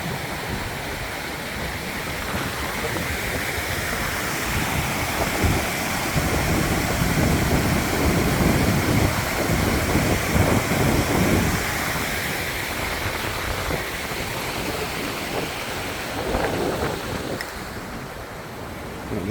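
Steady rushing of water pouring over a lake weir at West Wycombe Park, a continuous broadband roar with wind buffeting the microphone, holding constant for the whole stretch before easing slightly near the end.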